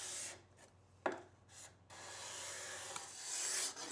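A steel card scraper drawn across a wooden workpiece, giving several close, dry rasping strokes of varying length, the last one long and sustained, with short pauses between and no talk.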